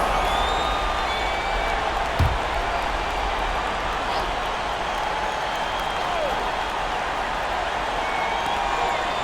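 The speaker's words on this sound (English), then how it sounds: "Give yourself a round of applause" A basketball crowd at an Allen Eagles home game against the Fishers Tigers gives steady applause, a dense, even wash of clapping and murmur filling the arena throughout, with one sharp thump partway through.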